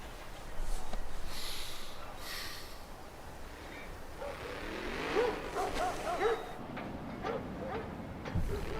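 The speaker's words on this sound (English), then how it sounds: "Dogs confirmed on Pyro. You can hear them barking." Dogs barking in the Star Citizen game on Pyro, several faint, scattered yips and barks against a soft ambient background, distant and without speech.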